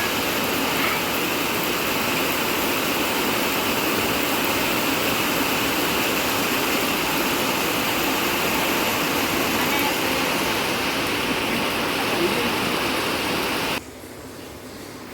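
Steady, dense hiss of very fine light rain falling continuously, close and even, cutting to a quieter room tone near the end.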